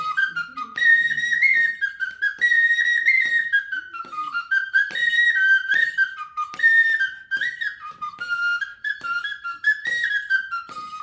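A whistle carved from sheep bone plays a series of short, quavering, rising-and-falling notes in imitation of a sheep's bleat, clear and close with brief gaps between phrases.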